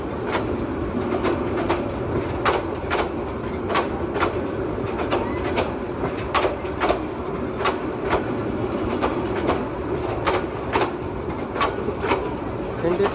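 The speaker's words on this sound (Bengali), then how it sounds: "ট্রেনটি তার নির্ধারিত টাইম বিলম্ব করে ভৈরব বাজার জংশনে প্রবেশ করেছে।" Chattala Express, a passenger train with white Chinese coaches, rolls into Bhairab Bazar junction with a steady rumble and regular clickety-clack of wheels over rail joints, heard close by at a constant loudness throughout.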